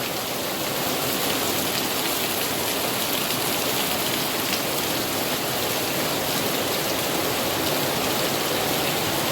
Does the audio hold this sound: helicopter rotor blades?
no